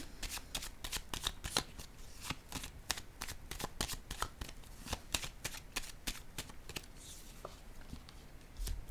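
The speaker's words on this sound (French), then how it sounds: "Je vais déposer une carte sur elle." Tarot cards being handled and laid down one by one during a reading, a dense run of crisp, close card flicks and soft slaps with no talking.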